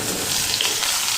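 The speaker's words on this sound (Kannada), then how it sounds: "ಉಳ್ಳಾಗಡ್ಡಿ, ಟಮಾಟಿ, ಬೆಳ್ಳುಳ್ಳಿ, ಮೆಣಸಿನ್ಕಾಯಿ ನೋಡ್ರಿ ಸ್ವಲ್ಪ ಫ್ರೈ ಮಾಡೋನು" Onions, tomato, garlic and green chilli fry in a pan with a steady, loud close-up sizzle, unbroken by voices.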